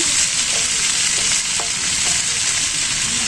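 Chicken meat frying and being stirred in a pan for a village-style curry, with a loud, dense, continuous sizzle and a few soft scraping stirs, close and without talk.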